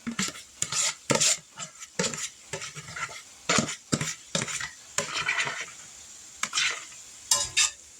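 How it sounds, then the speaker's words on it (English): Smoked sausage and onions are stirred back into fried cabbage in a pan, with bursts of close utensil scraping and clanking against the pan over a faint sizzle. "now I'm going to add the sausages and onions back."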